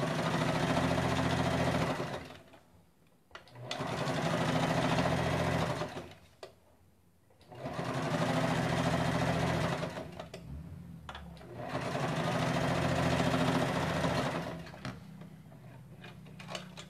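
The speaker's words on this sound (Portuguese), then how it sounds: "fiz uma costura de cá, tá vendo? E agora eu vou fazer ela de cá também" A sewing machine stitches a seam on a small handmade handbag, running in four close, steady bursts of a few seconds each, with brief quiet pauses between them and no talking.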